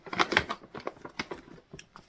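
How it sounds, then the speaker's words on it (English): Crinkly rustling of yarn packaging, a run of sharp irregular crackles and handling noises close up, busiest at the start and thinning out afterward. "Excuse the rustling."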